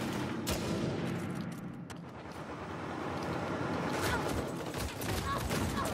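Sustained gunfire in an Uncharted 4 multiplayer match, a dense run of shots and bursts rattling almost continuously across the whole stretch, with game effects and occasional voices mixed underneath.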